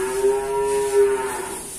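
Male calf cattle at a livestock dealer's yard give a single sustained, fairly loud moo lasting over a second, with faint farmyard background and no talk.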